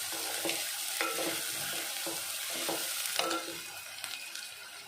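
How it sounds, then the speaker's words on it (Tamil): Chopped onion and two small green chillies sauté in a hot pan for paneer butter masala. A continuous sizzle runs under regular scraping stir strokes, close and steady. "வெங்காயம் நல்லா வதங்கட்டும்"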